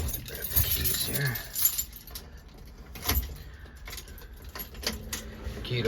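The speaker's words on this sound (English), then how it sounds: "Grab the keys here." Keys to a 1945 Chevrolet 3100 truck jangle and clink in several quick bursts, with rustling handling noise and small metallic taps throughout.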